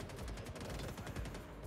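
Gunfire outside during a boarding assault on an Idris in the video game Star Citizen: dense, rapid automatic bursts run continuously as a steady, somewhat muffled barrage with no talk over them.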